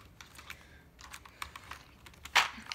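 Keycaps on a custom keyboard are pressed back onto their switches, giving a run of light plastic clicks and taps in uneven rhythm, close by, ending in one sharper, louder snap.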